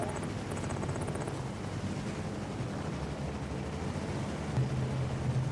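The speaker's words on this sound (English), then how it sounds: "This thing sounds like a helicopter." A tank in a video game gives a continuous low, churning engine rumble with a whirring, rotor-like flutter, steady and moderately loud, louder near the end, with no speech.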